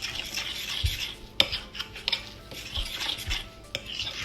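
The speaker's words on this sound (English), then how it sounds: "So Just mix it all well together." Banana bread batter being stirred by hand in a bowl, with scraping, clinking utensil taps against the bowl sides and a few sharper knocks, close and moderately quiet.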